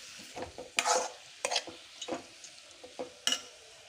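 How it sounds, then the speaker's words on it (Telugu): Sliced onions frying in a pan for spicy aloo bonda snacks, with soft sizzling broken by several sharp scraping stirs of a spatula, close and moderately quiet, no talking. "ఉల్లిగడ్డలు వేస్తున్నా తరుక్కున్నది, పచ్చివాసన తగ్గేంత వరకు దీన్ని వేయించుకోవాలి."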